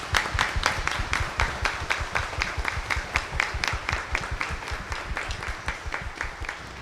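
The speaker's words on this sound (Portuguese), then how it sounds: "Vamos dar uma grande salva de palmas para eles." An audience at a church celebration gives a big round of applause, dense and sustained hand clapping from a crowd that stays steady and fairly close throughout, with no voices standing out.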